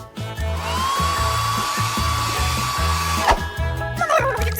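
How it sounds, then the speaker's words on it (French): A hair dryer runs steadily with a high whine over a pulsing low motor drone, loud and close, used in a food challenge on cake decoration; it cuts out near the end with brief clatter. "Tiens, le sèche-cheveux, ça va être beaucoup plus pratique."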